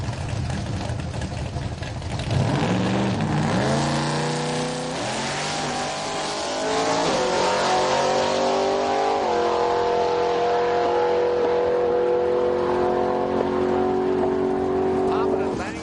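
A Chevy Camaro drag car, a 1000-horsepower daily driver, revs and launches down a drag strip at Heartland Park in Topeka, Kansas, its engine roaring loud and continuous with rising pitch sweeps as it accelerates through gears.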